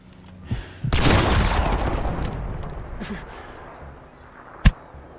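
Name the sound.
thud of Easter egg falling into map, video game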